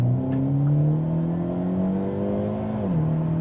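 A Hyundai Elantra N engine pulls steadily in second gear, a smooth rising drone that climbs in pitch and then dips briefly near the end, heard close and loud without talk.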